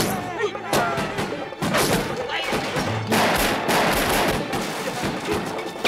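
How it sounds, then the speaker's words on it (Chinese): Gunfire in a Chinese made-for-TV zombie bodyguard film scene: dense, loud rapid shots and bursts crackle continuously throughout, with people shouting over them. "现在子弹一直打，我们死定了"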